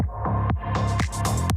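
An audio effect fades from a steady 1000 Hz tone into the normal audio, which carries a repeating pattern of low, gliding booms and sharp bright bursts, loud and close, with no talking.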